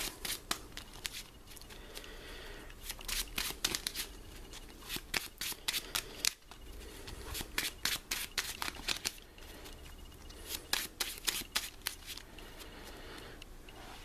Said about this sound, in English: I can shuffle these back into my